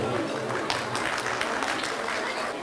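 A steady wash of audience applause fills a hall at a goose tirit dinner night in Ladik, Samsun, with dense, even clapping that holds at a moderate level throughout.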